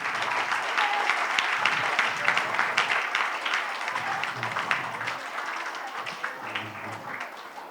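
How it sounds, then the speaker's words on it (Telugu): An audience at a Women's Day celebration applauds a woman who won a horticulture award, dense steady clapping filling the hall throughout, with faint voices now and then beneath it. "చప్పట్లు కొట్టాలి మీరందరూ కూడా."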